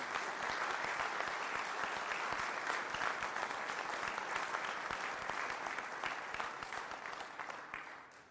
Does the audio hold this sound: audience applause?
yes